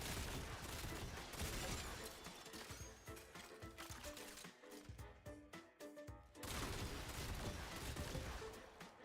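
A slug shotgun in the game Techrot Encore firing in a dense, loud burst of blasts over a busy game soundtrack, with a short lull partway through before the barrage comes back.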